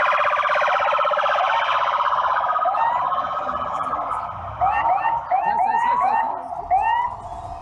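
Military police patrol cars escort an ambulance through traffic, their wailing sirens loud and continuous, and a second siren with quicker rising whoops joins in partway through.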